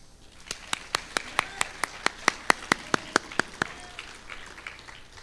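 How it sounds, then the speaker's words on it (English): Sparse, evenly spaced individual claps ring out at a graduation ceremony for an Air Force Test Pilot School space test class, around a dozen sharp hand claps in a steady rhythm that trail off, fairly close and distinct over a quiet room. "please join me in one more round of applause for STF 21-3's class leader"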